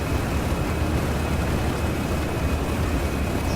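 Twin propeller engines of a DC-3 airliner in Microsoft Flight Simulator X drone in a constant, loud, dense roar throughout, with no talking.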